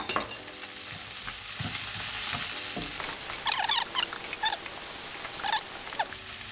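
Vegetables frying in a pan for omurice make a close, steady sizzle, with light patter and scraping stirs in the later part.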